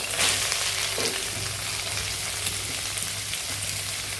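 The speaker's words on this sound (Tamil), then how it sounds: "இப்போ இஞ்சி பூண்டு பேஸ்ட் கட்டது வெங்காயம் போட போகிறோம்." Sliced onion with ginger garlic paste for a vegetable samosa filling fries in hot oil, giving a steady, close sizzle with a faint low hum underneath and no talk.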